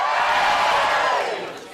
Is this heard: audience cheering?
yes